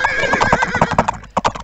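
Horses in an Age of Empires match neighing over rapid clip-clopping hooves, with repeated whinnies and a busy, close game soundscape throughout.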